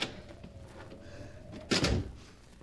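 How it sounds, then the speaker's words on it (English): A door being opened, heard as a short burst of clattering latch and wood noise near the end, set against a quiet room with faint scuffing beforehand. "Here's a door. If it's only unlocked."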